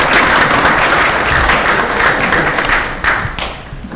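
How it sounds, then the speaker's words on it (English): A room at a township board meeting breaks into a sustained round of applause, a dense wash of many hands clapping that fades toward the end. "Can I get a round of applause for the young men from the Anchor Bay Junior?"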